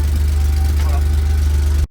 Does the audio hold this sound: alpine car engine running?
yes